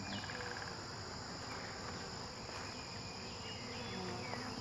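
Bees crowd a newly installed hive during a queen check, their dense, steady buzz filling the air close by, with no talk over it.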